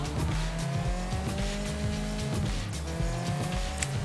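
A slow car in the Sleeping Dogs Definitive Edition open world drives with a steady droning engine, shifting gears with a rise and fall in pitch and brief tire squeals, loud and close, without any talking.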